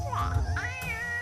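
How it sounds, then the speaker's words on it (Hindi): A peanut seller's cat meowing close by, two or three drawn-out, rising cries in quick succession, loud and insistent with no one talking. "अरे कोई इस बिल्ली का मुंह बंद करेगा? परेशान कर दिया है इस बिल्ली ने।"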